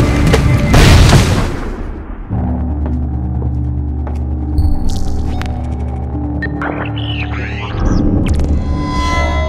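A grenade blast in the stealth shooter Splinter Cell Blacklist comes as a heavy, loud boom at the start, followed by a lingering low hum with scattered electronic game effects and tones.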